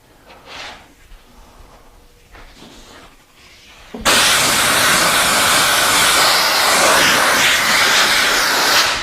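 After a few quiet seconds, a loud, steady blast of compressed air from an air compressor suddenly starts and hisses continuously until the end.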